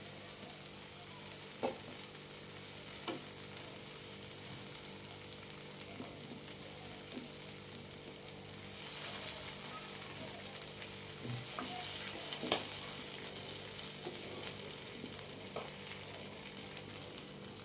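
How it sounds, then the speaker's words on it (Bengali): Chicken pieces fry in a pan, a quiet, continuous sizzle with occasional sharp pops and crackles, growing slightly louder midway and staying steady, with no talk. "চিকেনটা আমার উল্টো পাল্টা করে ভাজা হয়ে গেছে"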